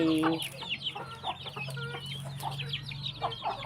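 Chickens cluck in a steady run of short, overlapping calls close by, with thin bird chirps scattered above them and a low hum underneath.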